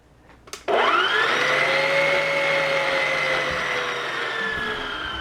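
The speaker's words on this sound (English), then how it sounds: "let the bread machine work on it" A bread machine kneading flour into dough for Danish cinnamon bread (kanelbrød) starts up abruptly and settles into a steady, close whirring motor drone with a faint high whine, running on without any talk.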